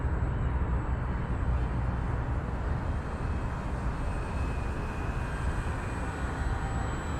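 A Dynam Waco 50-inch RC biplane flies on a 4S battery, its electric motor and propeller giving a steady, loud, continuous drone with no talking throughout.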